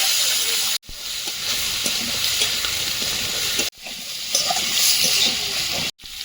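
Prawns fry in a pan with crushed garlic, whole and ground cumin and a pinch of turmeric, a loud steady hiss and sizzle that runs nearly unbroken, with only a couple of brief cuts.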